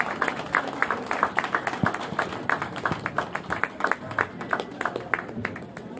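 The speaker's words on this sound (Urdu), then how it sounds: "کھڑے ہو کر اور تالیوں کی گونج میں ان کو خراج تحسین پیش کریں" An audience applauds at a farewell party, producing dense, sustained clapping from many hands that holds steady and fairly loud throughout, with no talking over it.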